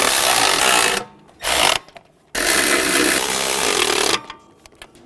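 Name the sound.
tightening exhaust manifold nuts with 14mm socket, Hyundai Sonata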